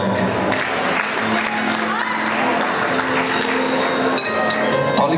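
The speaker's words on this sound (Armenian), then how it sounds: "եկեք մեր դիջե Ռաֆոնի բարձր ծափարեք" Wedding guests applaud the DJ in a loud, dense burst of clapping that fills the room, with crowd voices and a background hum mixed under it.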